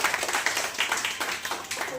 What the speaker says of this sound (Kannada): ತಾರಾಕುಮಾರಿ ಅವರು ಬಂದಿದ್ದಾರೆ, ಅವ್ರಿಗೂ ಜೋರಾದ ಚಪ್ಪಾಳೆ